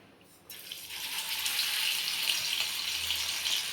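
Fish pieces dropped into hot oil start frying with a sudden, steady close hiss and crackle that holds on without a break, no talking.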